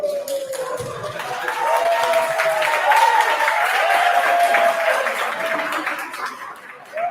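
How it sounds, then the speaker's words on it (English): Meeting attendees clap for an arriving trustee, a steady patter of applause from a small crowd with murmuring voices and a few chuckles mixed in throughout. "So everybody goes to start clapping for him when they see him."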